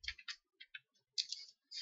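Computer mouse clicking during page work in Monarch Smart Cut Pro software, a quiet run of crisp, close clicks in quick pairs with short gaps between them.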